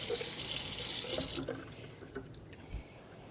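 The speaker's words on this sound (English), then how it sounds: "I'm going to give it a quick little rinse and then we can use it." A kitchen tap runs into a sink, rinsing a quarter-cup measuring cup, with steady rushing water for about a second and a half, then cutting off to a few faint drips and clinks.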